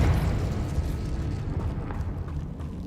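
Confringo blasting curse exploding in the Hogwarts Legacy game: a heavy eruptive blast that rolls on as continuous rumbling debris and crackle, strongest at the start and slowly easing, with no voices.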